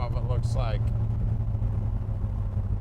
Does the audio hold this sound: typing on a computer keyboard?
no